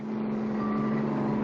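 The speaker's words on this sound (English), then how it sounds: "It's an armored car." An armored car drives toward a bank in a vintage cartoon, its engine a steady droning rumble with a sustained tonal hum, close and even throughout.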